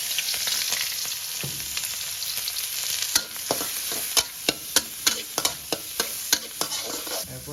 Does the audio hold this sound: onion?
yes